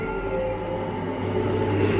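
A French RER commuter train rolling along, a steady low rumble with a sustained mechanical hum, continuous and fairly close, no talk.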